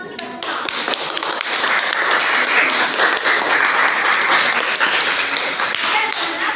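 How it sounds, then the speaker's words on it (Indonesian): A classroom of students bursts into applause after a brief pause, their clapping dense and sustained for several seconds. "Tepuk tangan untuk kita semua."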